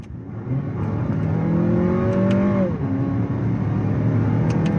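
A 2023 Lexus NX 350 F Sport Handling SUV accelerates, heard from inside the cabin as a steady, loud engine drone that climbs in pitch, drops briefly at a shift, then pulls on under road noise.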